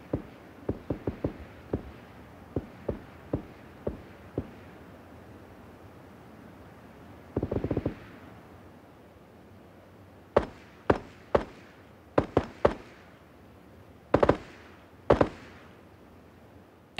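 Suppressed P18C pistol shots at range in PUBG, sharp muffled cracks in quick bursts and single taps, some faint and distant, later ones louder and crisper, spaced with quiet gaps over low background hiss.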